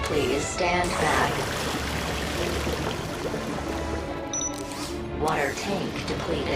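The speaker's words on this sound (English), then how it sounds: "Commencing spray. Please stand back." In the game Beyond a Steel Sky, a cleaning robot sprays water with a continuous hissing rush, while a synthetic robotic voice speaks over the spray.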